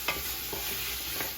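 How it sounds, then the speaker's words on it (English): Bite-sized onion pieces sauté for a squash stew, a bright continuous sizzle with a few soft stirring scrapes, up close and unbroken by speech. "to saute some onions at the same time"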